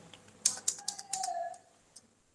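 Computer keyboard keys are pressed in a quick burst of five or six close, crisp clicks, followed by a single lighter tap after a short pause.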